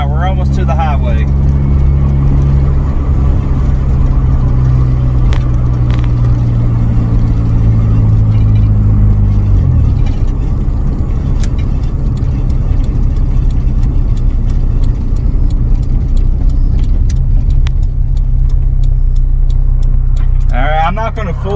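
A Honda CRX Si engine, recently broken in after sitting idle, pulls a moving car toward the highway. It rises through a gear, then drones at a steady mid-pitched cruise, loud and close throughout.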